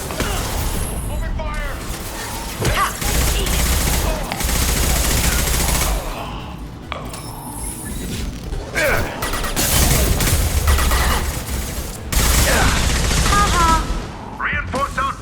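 Heavy gunfire from the video game Mass Effect 2 in a prison breakout, with sustained automatic bursts, booms and crashes filling the scene and character voices shouting over the combat.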